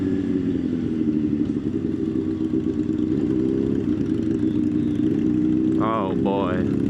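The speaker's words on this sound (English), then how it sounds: "Those crispy downshifts." A motorcycle engine runs steadily and close throughout, its tone holding as the bike rolls along, with a brief voice rising near the end.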